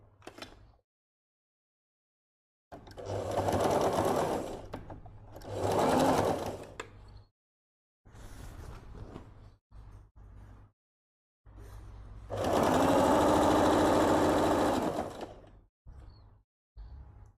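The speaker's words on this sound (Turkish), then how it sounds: "Hemen şöyle incecik kıvırıyorum ve bir dikiş geçiyorum." A sewing machine runs close by, stitching a thin folded hem on an abaya in several separate bursts of steady mechanical whirring, with pauses between runs.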